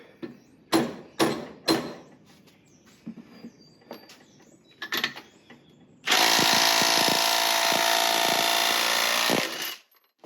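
Milwaukee 3/8 impact wrench working a fastener loose in a vise: a few sharp knocks and clatters, then a sustained loud hammering burst of about four seconds that cuts off abruptly.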